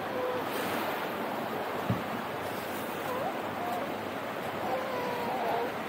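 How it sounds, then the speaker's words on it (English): A river in flood in Warburton rushes past a platform, a steady broad wash of moving water with some wind noise, continuous and fairly loud, with a faint voice briefly audible. "Gently wander out onto that platform and watch the river gently flow by."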